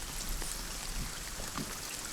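Rain falling, a steady broad hiss with faint patter, constant and fairly close, with no voices.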